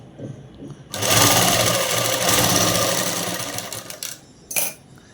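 A sewing machine runs continuously, close and loud, stitching a dress for several seconds, then stops, followed by a short burst of stitching near the end.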